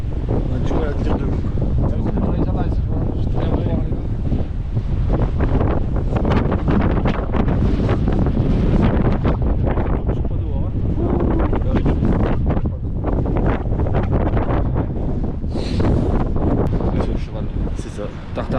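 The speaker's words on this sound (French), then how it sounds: "Il y a du vent à 90 km/h, sans les rafales, je pense." Powerful wind of about 90 km/h on a mountain at Bugarach buffets the microphone in a constant roaring blast with gusty surges, drowning out most other sound.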